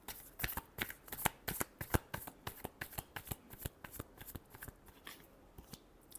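Tarot cards are shuffled by hand at close range, a quick run of crisp papery riffles and taps in an uneven rhythm, fairly soft with no voices.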